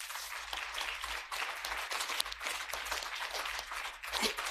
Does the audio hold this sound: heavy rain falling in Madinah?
no